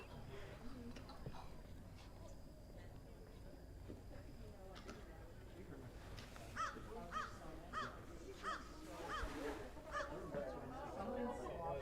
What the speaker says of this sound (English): That is a crow.